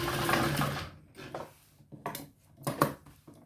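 A sewing machine stitches a side pocket onto trousers in a short whirring run up close, followed by scattered clicks and knocks of fabric and machine parts being handled.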